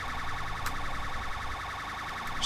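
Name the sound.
police car siren in video game GTA 5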